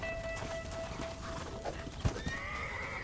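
A horse in Red Dead Redemption whinnies with a long tonal neigh over steady clip-clopping hooves, with a sharp thud partway through and a second rising whinny near the end, all fairly close and continuous.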